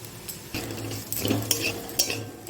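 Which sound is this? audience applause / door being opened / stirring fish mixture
stirring fish mixture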